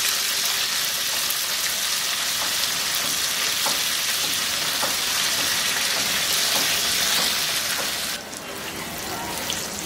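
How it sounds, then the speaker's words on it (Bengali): Bitter gourd slices frying in three tablespoons of very hot oil in a wok, a loud, steady, hissing sizzle that holds evenly before dipping briefly near the end. "কড়াইতে 3 টেবিল চামচ তেল গরম দিয়ে এর মধ্যে আমি এই করলাগুলোকে ভেজে নিব"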